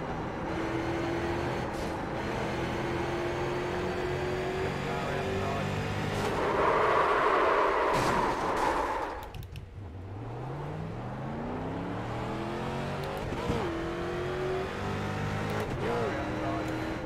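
A street stock race car engine drones steadily in iRacing at USA International Raceway, its pitch rising and falling through shifts, with a rough scraping burst midway before the engine revs back up; a voice talks over it.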